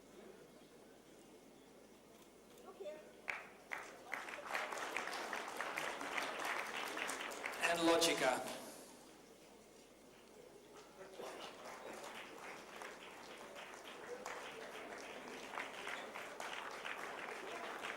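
An audience applauds shortlisted environment-category nominees at an evening awards ceremony; the clapping swells into a loud, dense burst, then fades as a presenter's voice carries on over scattered claps.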